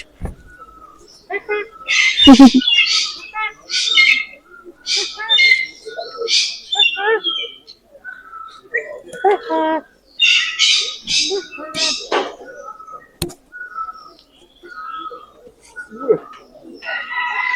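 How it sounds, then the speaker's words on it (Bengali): Many birds, including ostriches, squawk and call in overlapping bursts, loud and close, at a bird park in Pelling, West Sikkim, with a person talking intermittently underneath. "এখানে অনেক রকম পাখি রয়েছে"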